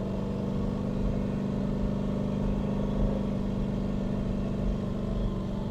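A 1300 hp turbocharged Corvette with a TH400 transmission runs steadily at highway speed, its engine a constant low drone under gentle throttle with no talking.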